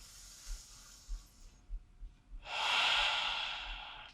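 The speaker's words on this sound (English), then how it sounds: "Taking some expansive breaths." Deep breathing during a stretch in a core strength workout: a slow, soft inhale and pause, then a long, loud airy exhale close to the microphone, with no speech.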